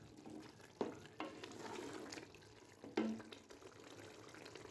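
Palak gosht meat roasts in ghee with dried fenugreek, a soft steady sizzle broken by a few louder stirring scrapes and clatters from a spoon in the pan.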